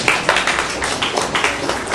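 A crowd applauding, a dense patter of many hands clapping at once, fairly loud and steady throughout.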